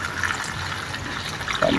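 Water pours into a pan of frying chicken, a short continuous gushing splash that rises slightly toward the end.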